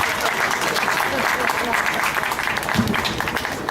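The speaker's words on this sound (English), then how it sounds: "Big applause and good luck." Applause from the audience at a high school graduation ceremony, a dense, steady wash of clapping lasting the whole stretch, with some voices mixed in.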